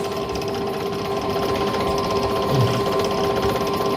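A drill bores stitching holes in a leather knife sheath, producing a steady, high-pitched motor whine with a buzzing, sewing-machine-like rattle, close and continuous without speech.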